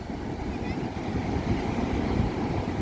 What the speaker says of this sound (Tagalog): lakas pa rin ang alon